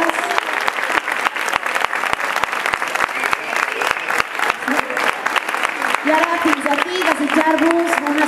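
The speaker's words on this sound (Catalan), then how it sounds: "Crec que també es mereixen un fort aplaudiment" An audience in a school gymnasium gives sustained applause for young performers after a school concert, loud and dense clapping that continues over speech.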